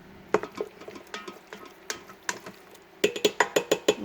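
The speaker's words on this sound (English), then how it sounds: "Then we're going to mix all of that around." A spoon stirs homemade chili with tomato sauce in a Fissler Souspreme Multi Pot, making close, irregular scraping clicks and taps against the pot that quicken into a steady run of knocks near the end.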